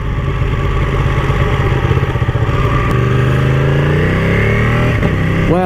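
A Ducati Panigale motorcycle fitted with a throttle spacer rides past with a loud, steady engine drone and rising, shifting revs throughout, with no talking.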